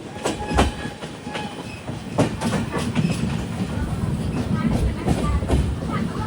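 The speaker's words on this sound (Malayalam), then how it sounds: "ട്രെയിൻ ഇപ്പോൾ ഇതാ ജയനഗർ റെയിൽവേ സ്റ്റേഷനിലേക്ക് എത്തിയിരിക്കുകയാണ്" A Barauni to Jaynagar Express sleeper-class train runs with rhythmic clickety-clack of wheels over rail joints and a steady rumbling roar, heard close from inside the carriage.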